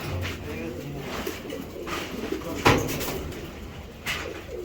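Racing pigeons coo softly in a loft, a low murmuring call repeating under steady background noise, with brief knocks and a sharper thud near the middle.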